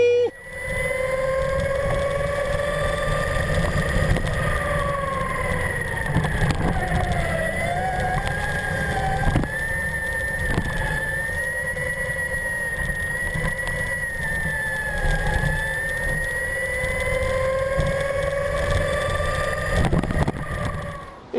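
A race car engine at the Hungaroring start drones loudly and continuously, its pitch rising and sliding for about twenty seconds with no voices over it.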